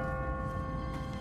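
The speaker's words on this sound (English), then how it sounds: "What kind of church bell goes off at 20 past the hour?" An automatic church bell rings on a timer in a deserted city in The Walking Dead video game, its sustained metallic tones humming steadily over a rough background rumble.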